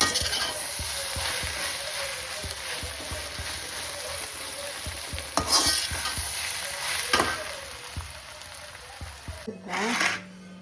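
Sliced onions frying for mutton biryani, a steady close sizzle with repeated stirring scrapes throughout, a brief louder clatter near the end.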